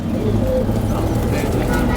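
Pigeons coo softly under steady background noise while someone talks.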